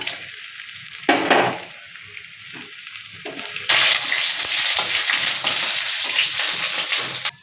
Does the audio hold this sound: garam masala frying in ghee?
yes